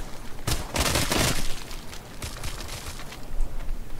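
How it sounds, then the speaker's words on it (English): Pistol shots in the VR zombie game Arizona Sunshine: a quick cluster of sharp cracks near the start, then a few scattered single shots, close and fairly loud, with no talking. "And test out this pistol."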